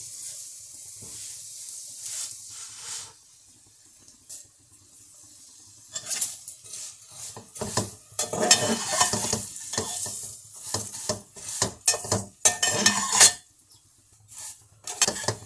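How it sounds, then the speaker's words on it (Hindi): Vermicelli fries in hot ghee while a spoon stirs it through the pan, quiet at first, then busy scraping and rustling strokes with crackling sizzle, close and irregular, no voices. "हम स्लो सेवइयों को घी में डालेंगे, उसको लाइट ब्राउन हम फ्राई करेंगे।"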